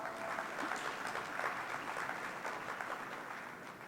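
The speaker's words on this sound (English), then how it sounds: "we could give them a round of applause" Steady applause from a conference crowd, dense and continuous clapping at moderate loudness without voices throughout.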